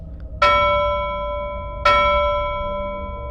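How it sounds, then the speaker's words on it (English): A hotel reception desk bell struck twice, each a bright metallic ding with a sharp attack and a long ringing decay, the two strikes about a second and a half apart in an otherwise quiet room. "I waited at reception and rang the bell a couple of times."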